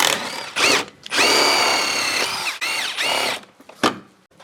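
A power drill removes a transmission mount bolt in several close bursts, its motor whining up and down in pitch between short pauses.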